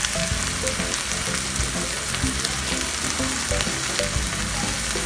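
Ground beef frying in a pan, a loud continuous sizzle with scraping and stirring clatter from a utensil throughout, close and steady with no talking.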